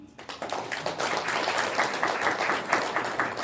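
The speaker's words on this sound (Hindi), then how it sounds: "ताली तो बजाओ" An audience at a spiritual talk in Mahagama, Jharkhand, breaks into sustained clapping, a dense rattle of many hands that starts abruptly and holds steady and fairly loud throughout.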